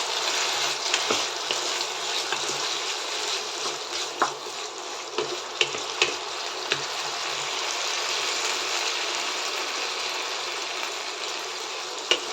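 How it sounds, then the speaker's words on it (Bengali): Diced potatoes fry for Bengali aloo posto in a pan over low to medium flame, giving a steady close hiss of sizzling oil with a few sharp pops and utensil clicks scattered through. "লো টু মিডিয়ামে রেখে আলুগুলোকে ভেজে নেব"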